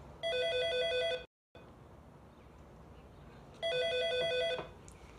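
A telephone rings with two bursts of a bright electronic bell, separated by a short silence and a stretch of quiet room tone.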